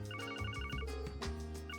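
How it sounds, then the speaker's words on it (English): A phone ringtone in the Trails from Zero video game, a bright repeating electronic melody of short beeping tones over a steady low game music backdrop, loud and continuous. "the ringtone, the phone ringtone sounds like the Metal Gear Solid one"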